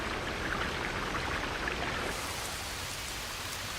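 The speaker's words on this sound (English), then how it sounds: "As soon as it rains, water will flow through the wide open gullies into the 2 shallow basins." Steady rain falls into the wide open drainage gullies of a public square, a dense, continuous hiss of pouring water that eases slightly toward the end, with no voices present.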